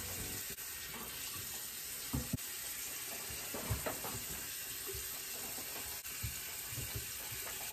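Tap water runs steadily while hair is wetted under it, a soft continuous hiss and splash with a few small knocks and shifts, fairly quiet and without talk.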